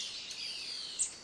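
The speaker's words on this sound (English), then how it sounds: "Ocellated ant bird." Ocellated antbird in a Panama rainforest gives a thin, high sustained song with a brief sharper note near the end, fairly faint and alone.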